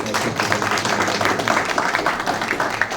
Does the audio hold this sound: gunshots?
no